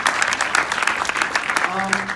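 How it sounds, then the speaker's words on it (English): Audience applause greets a writer-director and producer-actress at a film screening Q&A, a dense steady patter of clapping for about two seconds, with a voice speaking over the final stretch. "Give them a round of applause."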